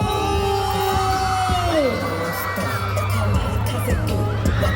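A large crowd at a volleyball star's meet and greet in a shopping mall shouts, whoops and cheers loudly and continuously, with shrill voices rising and falling over a steady roar.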